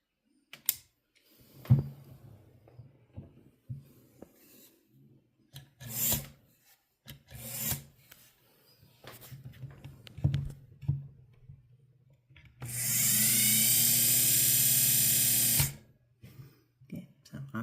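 A Necchi BU Mira sewing machine motor, cleaned and with its distance from the wheel still unadjusted, whirs loudly for about three seconds after scattered clicks and mechanical rubbing.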